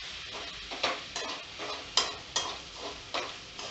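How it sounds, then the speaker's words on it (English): A mixture being stirred continuously in a pan over the lowest flame, soft scraping with a row of distinct spoon knocks roughly every half second, close and quiet, no voices. "Put the flame to the lower, to the lowest, and keep stirring it"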